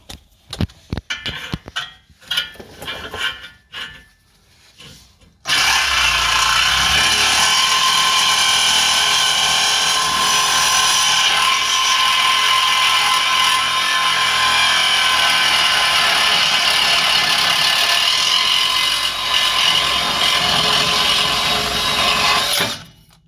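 A power tool cuts through an old exhaust part on a RAM 2500 during an exhaust install, starting with a few short loud bursts, then running in one long, steady, loud grind for about seventeen seconds before stopping.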